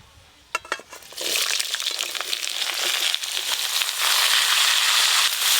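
Cut, washed bottle gourd dropped into hot oil tempered with dried red chilli, bay leaf and five-spice, with a few sharp crackles first, then a loud, steady sizzle that keeps going close by.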